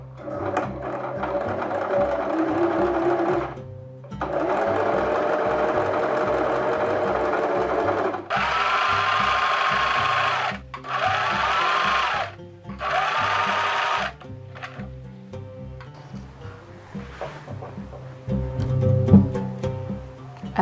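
A Singer sewing machine stitches a skirt hem in several long runs separated by short pauses, a close steady mechanical whir with light handling between bursts.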